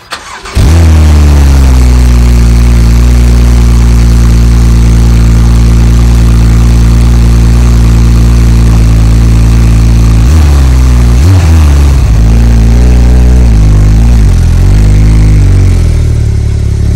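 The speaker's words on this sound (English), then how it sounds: "Start on a 911 turbo, what a machine and what a noise." Porsche 911 Turbo S rated at 600 hp cranks and fires up close by, settling into a loud, steady idle with a couple of revs blipping near the end, no voices over it.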